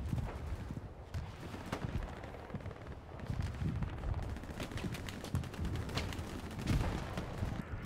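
A Bren light machine gun fires in a WWII video game battle at El Alamein. Dense rapid bursts crackle at a moderate distance over constant battlefield rumble and other gunfire.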